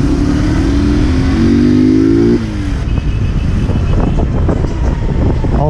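Street traffic with car engines: one engine revs and holds a rising drone before it cuts off, then a busy mix of passing vehicles rumbles and hisses nearby.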